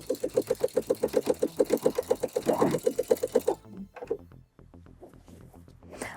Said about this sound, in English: I'm not pulling it through, I'm letting the machine do all the work.